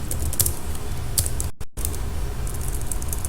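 Computer keyboard typing as VBA code is entered, with quick irregular key clicks, a brief silent gap partway through, then more tapping, close and clear with no speech.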